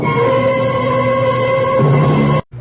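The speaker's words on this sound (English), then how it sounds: "Thunder." Thunder sound effect in a radio drama: a loud, sustained rumbling roar that holds steady for over two seconds, then cuts off abruptly into a brief low tail.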